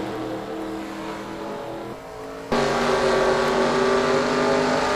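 Ford V8 Pro Series race car engine heard from a hood-mounted camera at Calder Park Raceway, a steady loud drone that dips briefly then jumps to a harsher, louder roar as the car accelerates, no talk over it.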